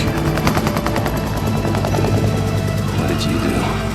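Helicopter in the video game Days Gone, a loud rapid rotor chop pulsing steadily over rumbling engine noise and bursts of gunfire, with a voice speaking over it.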